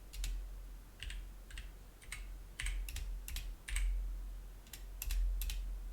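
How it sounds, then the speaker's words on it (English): A computer keyboard is typed on in quick, irregular bursts of crisp key clicks with brief pauses between words. It sounds close and clear over a low room hum, with no speech. "That keyboard, cool."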